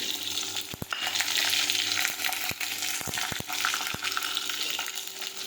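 Curry leaves, asafoetida and garlic sizzling in hot oil, a steady close frying hiss with occasional spoon clacks against the pan, no talking.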